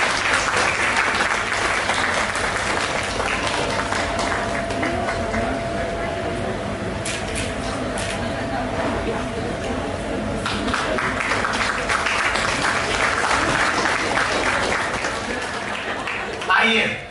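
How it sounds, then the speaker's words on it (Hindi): Sustained, vigorous audience applause fills a Hindi poetry gathering, a dense continuous clatter of many hands heard close and loud, easing slightly midway before swelling again, with faint voices mixed in. "एक बार और जोरदार तालियां हो जाएं"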